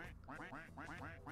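Cartoonish duck quacks from the Roblox game Duck Army, a rapid, loud string of repeated honking calls in two bursts with barely a pause between them.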